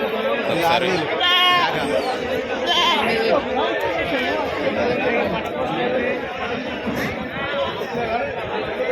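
Goats bleat in a couple of short bursts amid a dense hubbub of crowd chatter and voices at the Pebbair livestock market, where large billy goats are sold.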